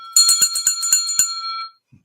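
A hand bell rings in a quick series of about eight bright, metallic strikes, then fades out into near silence with a faint sound at the very end.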